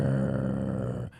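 A person imitates an angry dog, giving one sustained, rough, low growl that carries close and loud before cutting off abruptly near the end.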